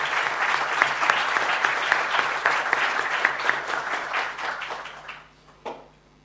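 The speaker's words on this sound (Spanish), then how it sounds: "Un aplauso les pediría para ellos" Sustained applause from a seminar audience, dense, even clapping that holds steady for several seconds, then thins and fades out with a few last claps.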